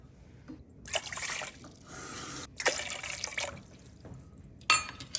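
Warm water pours into a mixing bowl for bread dough, coming in several short splashing bursts with brief pauses between them, close and clear, with no talk over it.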